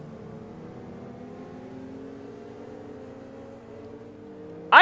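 A Pontiac Solstice engine in Forza Motorsport 2 hums in a steady, rising tone as the car accelerates around the track, fairly quiet until a sharp louder burst at the very end.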